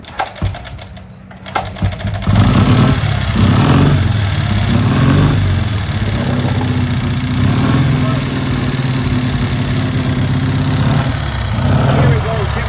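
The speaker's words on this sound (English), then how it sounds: "Jim's got it fired up. 1930 Douglas, 350 twin" A 1930 Douglas 350 twin motorcycle in a museum workshop starts with a couple of brief sputters, then settles into a loud, steady, rapid-firing idle that carries on throughout, heard up close.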